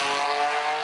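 A Buick Grand National's engine gives a short, loud, steady droning roar held close for under a second, with no voices over it.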